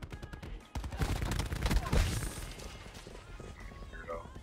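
KN-57 rifle fire in a first-person shooter video game comes as a rapid burst of close, sharp shots that then trail off into softer in-game noise.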